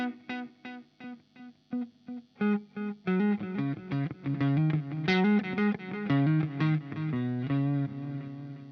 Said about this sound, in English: so next is dynamic delay.